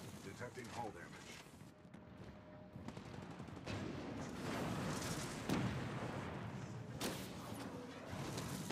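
Cannon fire in the video game Titanfall 2 sounds as a continuous barrage of booming shots and explosions, with sharp blasts standing out near the end, under spoken commentary.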